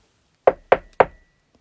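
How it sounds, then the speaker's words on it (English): Three sharp, evenly spaced knocks on a wooden door, close and loud, in an otherwise quiet setting, for a Goldilocks and the Three Bears story. "she knocked at the door"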